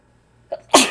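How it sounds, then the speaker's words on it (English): A single sharp sneeze bursts out after a brief indrawn breath, close and loud in an otherwise quiet room. "I actually managed to sneeze"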